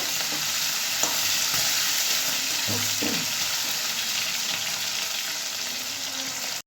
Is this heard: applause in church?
no